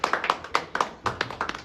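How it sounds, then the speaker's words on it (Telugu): At a movie poster launch, a small group claps in scattered, uneven hand claps, a few sharp slaps close by, coming in loose clusters over under two seconds. "క్లాప్స్."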